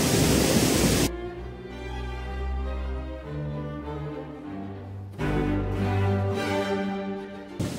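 Bhivtas waterfall at Surgana near Nashik: a loud burst of broad rushing water opens, then sinks to a faint wash under a steady tonal drone before swelling back up near the end.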